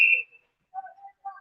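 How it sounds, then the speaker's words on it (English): A referee's whistle at a high school hockey game between Manistique and Jeffers gives one short, sharp blast at the very start, followed by softer, scattered tonal sounds from the rink. "Hand pass. Whistle."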